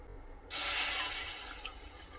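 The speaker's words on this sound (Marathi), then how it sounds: "तीन वाटी याच्यामध्ये पाणी ॲड करायचं आहे" Water poured into roasted flour in a pan for a crunchy fasting medu vada batter, a sudden loud broadband splash that starts abruptly and keeps pouring steadily, easing slightly toward the end, with no talking.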